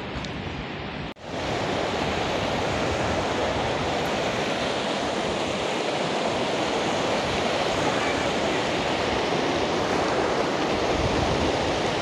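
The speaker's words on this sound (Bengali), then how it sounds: "দেখতে পাচ্ছেন কেমন স্রোত, প্রচণ্ড স্রোত থাকে এখানে।" A strong river current rushes over large rocks near Lal-Jhamela Basti on the route from Dhupguri to Diana, a dense, loud, unbroken roar of water that surges in after a brief dip at the start.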